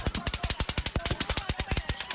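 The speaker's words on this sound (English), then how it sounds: "blasts of automatic gunfire ringing out towards the end of a concert at the Route 91 Harvest Music Festival" Automatic gunfire at the Route 91 Harvest Music Festival on the Las Vegas Strip, a rapid, evenly spaced string of about twenty loud cracking shots in a steady burst.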